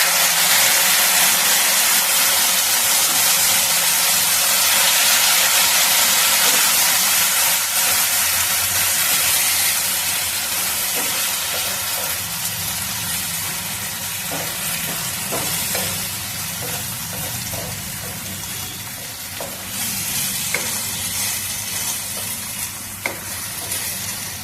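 Mixed sauce poured into a hot pan of frying onion and capsicum for chili paneer, a loud hissing sizzle that gradually settles into steady bubbling with occasional stirring clatter.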